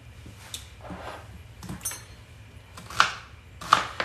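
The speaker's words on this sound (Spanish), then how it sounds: "Estoy picando cebolla" Onion being chopped with a knife while preparing Tamaulipas-style tacos sudados: a handful of sharp, irregularly spaced strikes on the board, the last two loudest, over a low steady room hum.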